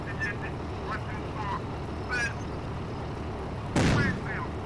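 A tank cannon fires a shell in the Steel Fury tank game, a single loud sharp blast standing out over steady engine rumble and background noise, with a voice talking around it.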